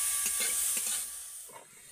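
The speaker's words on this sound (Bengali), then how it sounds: "গাজরটাকে আমি তেলের সাথে একটু হালকা করে ভেজে নেব" Carrots frying lightly in oil in a pan for winter Bengali pitha, a steady soft hiss with faint crackle, louder at first and easing off toward the end.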